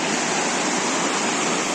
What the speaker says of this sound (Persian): قبلا اینجا این آبشار یه لوکیشن خیلی خوب بوده